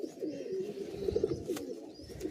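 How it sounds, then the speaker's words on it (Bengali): Benares Giribaz pigeons coo close by, a low, steady purring warble that rises and falls in soft repeated rolls, with no talking. "এটা তো বেনারসের পায়রা"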